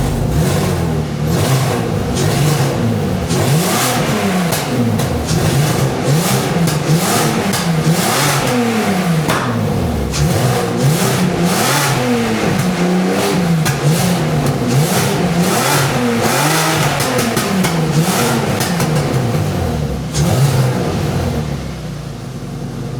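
A Peugeot 206 fitted with a VR6 engine revs repeatedly, rising and falling in steady waves over a loud, continuous engine drone with no talk.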